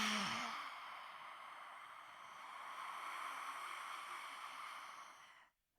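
A long, steady breath drawn in through the nose during a yoga class, a soft continuous airy hiss lasting several seconds before stopping abruptly, close and quiet, with no talking.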